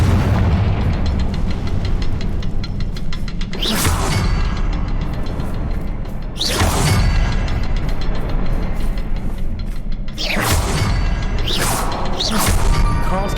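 Confringo blasting curse going off in Hogwarts Legacy on PS5: four loud booming explosions at irregular intervals, each a sharp burst that rolls off, over a constant thick background roar.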